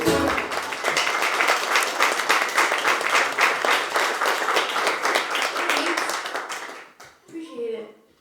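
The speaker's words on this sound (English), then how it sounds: "You guys got a good clapping section over here." A live comedy-show audience claps hands in tight unison, a fast, regular beat of sharp claps that holds for about seven seconds before stopping, followed by a brief bit of talk.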